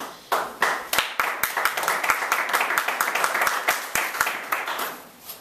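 An audience claps in a sharp, uneven rhythm, with individual slaps close and distinct, building into steady applause that lasts several seconds with no talking over it.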